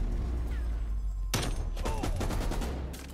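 Dense Call of Duty Cold War gunfire: after a brief lull, a loud rapid burst of shots breaks out and keeps rattling, with a short trailing volley near the end.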